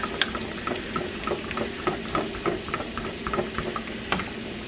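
Spoon stirring crisping bacon in a pan, soft scraping clicks and light sizzle repeating irregularly at close range with no talk.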